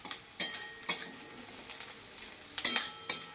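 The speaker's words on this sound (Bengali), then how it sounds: "এইটাকে আমি লাল লাল করে ভাজবো আদা রসুনের প্রতিমা 7টা না 8টা শুকা লঙ্কা দিয়েছে" Crab frying in a pan with ginger, garlic and dried red chillies gives a steady close sizzle, broken by several sharp scraping clacks as the mixture is stirred.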